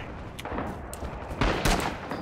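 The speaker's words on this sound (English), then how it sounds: "Artillery's coming in on Alpha guys." Incoming artillery and gunfire in the Rising Storm battle at Iwo Jima: a dense din of shots and bursts, with several sharp loud cracks and a heavier impact cluster near the end, steady battlefield roar beneath.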